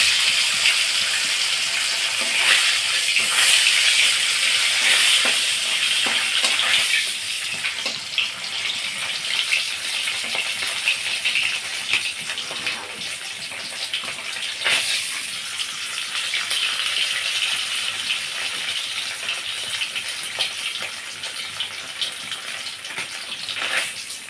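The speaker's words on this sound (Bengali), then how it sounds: "কড়াইতে তেল দিয়ে দিয়েছি তেলটা গরম হয়ে গেছে এবার আমি লেসটা ভেজে নেবো" A tilapia fish tail frying in hot oil in a wok gives a steady, dense sizzle and hiss that runs loud and close throughout, with brief crackling bursts.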